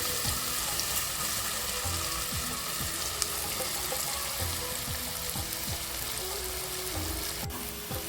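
Sliced onions sauté in an oiled pan for Kongu-style mushroom biryani, giving a steady, dense sizzle with occasional stirring scrapes that continues unbroken for the whole stretch.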